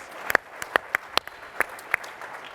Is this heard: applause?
yes